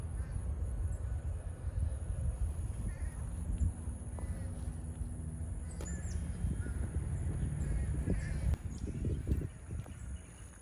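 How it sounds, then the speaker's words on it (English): Ducks honk and quack outdoors near a fence, with scattered calls at moderate distance over low rumbling background noise and a faint voice now and then. "Here come the ducks."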